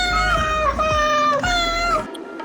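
A video game sound cue of a cat meowing: two close, clear meows with drawn-out, bending tones in quick succession, loud and alone, ending in a brief faint tail.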